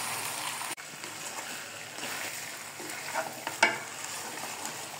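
Chicken pieces stirred into spiced masala in a hot pan for homemade chicken biryani, giving a steady close sizzle and frying hiss with occasional scraping stir strokes and a sharper clatter near the end.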